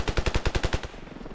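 Machine gun fire in the video game Ravenfield: a rapid steady burst of about nine loud close shots, then a short fading tail.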